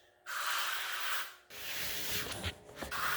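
A steel trowel is worked back and forth over freshly poured concrete patching a slab after an under-slab plumbing leak repair, making close, loud gritty rasping strokes with a short pause between them.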